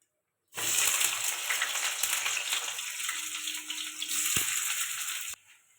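Onions tossed into hot oil for a spicy jhal, a sudden loud sizzle bursting in and hissing steadily before cutting off near the end.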